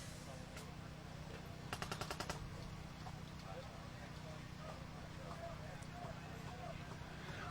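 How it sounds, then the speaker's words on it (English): Paintball guns firing on a tournament field, a quick burst of about half a dozen shots with a few scattered pops, under a commentator's voice. "No, it's guns firing."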